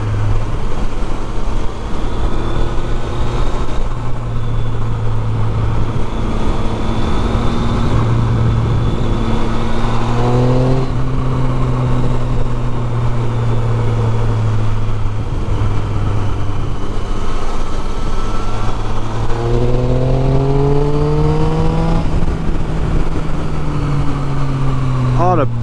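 A Triumph Street Triple 675 motorcycle with a loud exhaust runs steadily, its engine note climbing and falling in several revs over a constant road rumble.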